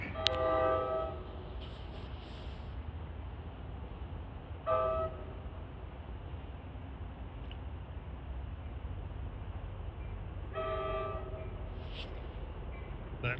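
An NJT train sounds its horn in short blasts, one near the start, one around the middle and a longer one later, over the continuous rumble and rolling noise of the passing train.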